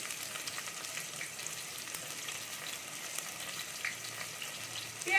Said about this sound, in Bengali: পেঁয়াজটাকে আমি একটু হালকা করে ভেজে নেব